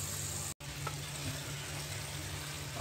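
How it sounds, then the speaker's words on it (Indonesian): Chili peppers frying in oil inside an electric rice cooker at a fishing spot make a steady, continuous sizzle, close and even, with a brief dropout near the start and no talk. "penanak nasi aja bisa buat goreng, yang penting mateng"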